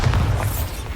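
A Bombarda spell going off in Hogwarts Legacy, one heavy deep boom that rumbles through the whole second with no voices.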